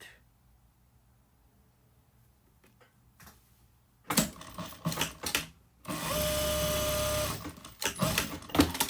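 Home sewing machine stitching a dart in a pencil skirt, a steady buzzing run of about a second and a half after a few short bursts and handling clatter, close and fairly loud.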